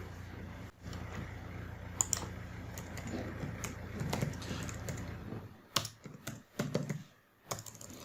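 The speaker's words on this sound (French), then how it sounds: "on va taper quelques titres pour comprendre" Typing on a computer keyboard, entering document headings in Microsoft Word: irregular bursts of close, soft key clicks over a low room hum, pausing briefly, then a few sharper, separated keystrokes near the end.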